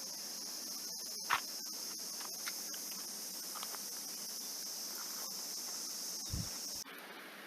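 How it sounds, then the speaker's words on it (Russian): Crickets chirp on a night drive through Karakalpakstan, a steady high-pitched trill running continuously at moderate level with faint scattered clicks, cutting off just before the end. "слышно на камеру, как сверчки сверчат?"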